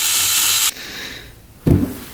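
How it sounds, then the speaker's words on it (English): A power drill boring out a bolt on a dirt bike whirs loudly, stops for about a second, then starts up again, grinding steadily. "Let's drill that out."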